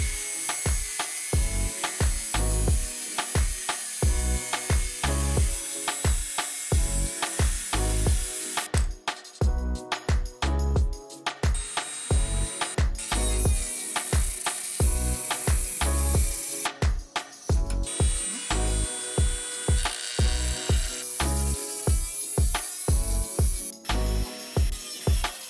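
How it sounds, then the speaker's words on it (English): Mini grinder cutting an outline in thin, flimsy metal while opening a lock without a key, a loud close buzzing grind in steady repeated bursts that pause briefly and restart. "Then grind out the outline. Use a mini grinder for smaller angled cuts."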